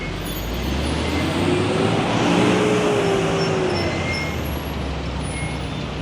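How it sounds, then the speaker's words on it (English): Road traffic at a traffic light junction on Herbert Macaulay Way in Abuja: a steady, loud roar of cars and heavier vehicles passing close by, with a rising and falling engine hum. "This is a traffic light junction."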